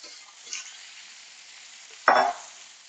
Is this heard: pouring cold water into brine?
no